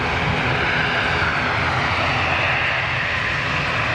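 A passenger airliner roars through its takeoff run at Lisbon Airport, a loud, steady, broadband engine rumble filling the whole stretch close by with no voices over it.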